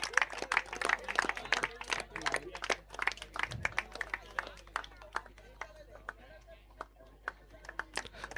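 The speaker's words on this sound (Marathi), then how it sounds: "जोरदार टाळ्या झाल्या पाहिजे रक्ते साहेबांसाठी" An audience at a cricket club prize distribution claps, a dense run of fairly quiet hand claps that thins out toward the end, with some talk underneath.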